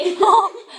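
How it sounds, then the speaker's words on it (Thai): A short burst of high, chattering voices from several Furby toys talking to each other, babbling briefly like giggly, squeaky speech. "เสียงนี่คือเสียงเฟอร์บี้"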